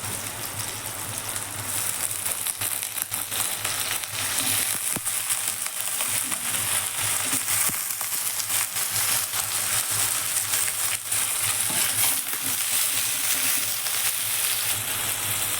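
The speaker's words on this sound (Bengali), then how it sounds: "আলুগুলো দিয়ে দিব একসাথে ভাজবো" Potatoes sizzle steadily in hot oil in a pan for an egg and potato curry, a dense continuous frying hiss with occasional crackles and stirring, close and loud throughout with no talk.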